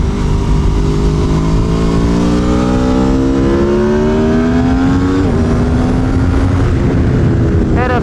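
Aprilia Tuono V4 1100 Factory motorcycle on a track day, engine loud and close throughout, pitch climbing steadily as it accelerates, then a quick shift and a short blip with wind noise.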